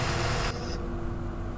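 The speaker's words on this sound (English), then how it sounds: "that noise, I think the extractor fan's on the engine." Steady broadband whoosh of a bus engine extractor fan in OMSI 2, loud and constant, briefly brighter at the start before settling to a duller, even drone.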